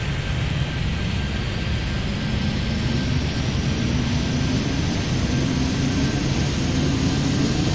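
A jet airliner takes off from a runway at Hong Kong in the video game Airplane Madness 3D, its engine roar loud and steady while the pitch climbs gradually throughout.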